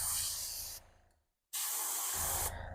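An airbrush hisses paint over a stencil on a custom fishing lure, spraying in two close bursts separated by a short silent pause.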